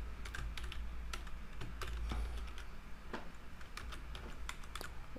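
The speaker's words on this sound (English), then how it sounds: "Just click on this console and just type console.log and just type hello." Rapid keystrokes on a computer keyboard as someone types a short line of code, irregular clicks close to the mic over a steady low hum, no talking.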